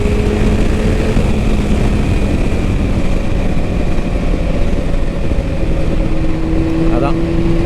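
A 2000 Yamaha R1 1000cc superbike engine running: a loud, constant roar with rough, gritty texture and steady intensity, close up and unbroken for the whole stretch.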